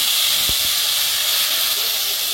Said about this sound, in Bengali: সরষে আর জিরা বাটা, পেঁয়াজ রসুন একসাথে বাটা ভালো করে আমি কষিয়ে দিচ্ছি।